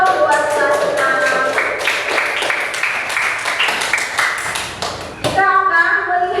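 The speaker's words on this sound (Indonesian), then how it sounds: "tepuk tangan dong buat Sasna." A class of children clapping hands for a classmate, close and fairly loud, with crisp, fast, fairly regular claps that stop briefly before a final short burst of claps, with children's voices in the background.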